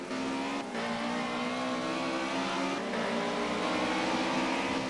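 Historic touring cars, including BMW, Mercedes and Ford racers, rev loudly into a corner at Oulton Park, their engines droning and rising in pitch as the field passes close by.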